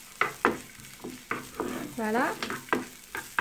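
Chopped shallots sizzle in a little oil in a frying pan. Bursts of stirring scrape against the pan over a soft frying hiss, and a voice briefly speaks.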